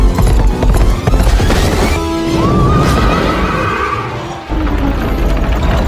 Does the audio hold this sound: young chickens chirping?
no